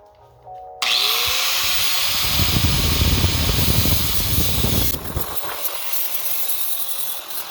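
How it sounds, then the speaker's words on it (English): An angle grinder with a 60 grit sanding wheel grinding a light aluminum turbo housing, a loud continuous whine and hiss that starts abruptly and holds steady, then eases to a lighter touch partway through. "I'm gonna start with an angle grinder with a sanding wheel"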